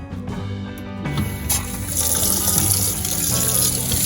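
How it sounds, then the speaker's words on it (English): Cold water gushes steadily from a tap in a Solis 59P camper's fresh water system, starting after a faint click and rising into a full, continuous rushing splash. "So let's turn the cold water on"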